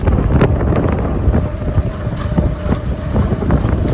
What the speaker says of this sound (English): it's Saturday and it's terribly windy